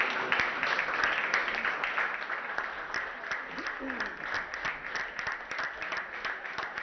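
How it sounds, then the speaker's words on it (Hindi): Supporters clap steadily at a women's 25m pistol shooting event at the Khelo India University Games, a dense patter of many hands heard at moderate distance with a faint voice underneath. "जिस तरह से उनके समर्थक तालियां बजा रहे हैं"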